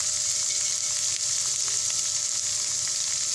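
Pork for Bicol Express frying in a pan, a continuous loud, close sizzle with a steady crackling hiss throughout.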